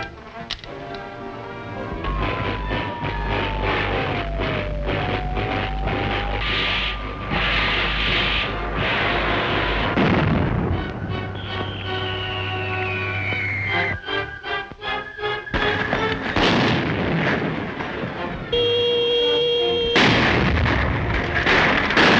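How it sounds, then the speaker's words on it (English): Bombing of a temple in a 1930s serial film, with heavy low explosion rumbles and repeated booms, whistling descending tones and sustained roaring blasts over about twenty seconds, loud and continuous. "Bombing the temple."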